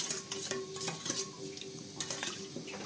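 Sugar is stirred into water in a bowl for eggless cookie dough, giving quick repeated scraping and clinking of a spoon against the dish at close range, with no talking.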